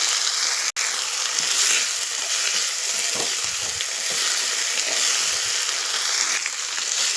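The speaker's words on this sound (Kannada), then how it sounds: "ನೋಡಿ ಫ್ರೆಂಡ್ಸ್ ಫ್ರೈ ಆಗ್ತಾ ಇದೆ" Onions and mint leaves fry in a pan for pudina chutney, giving a loud, dense, continuous sizzle with light stirring scrapes and one brief cut-out near the start.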